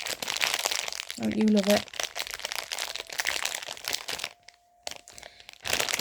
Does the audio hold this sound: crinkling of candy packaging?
yes